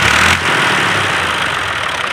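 A tractor and a motorcycle run together on a farm road during a maize harvest, a loud, steady mid-to-low engine rumble with a brief change in tone near the start and no voices.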